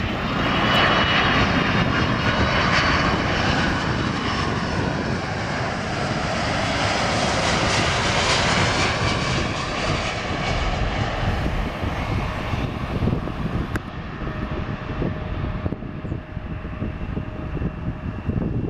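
A UPS Boeing 767 jet airliner lands at Portland, its engines roaring loud and steady throughout, the broadband rumble easing slightly toward the end with a faint tonal whine.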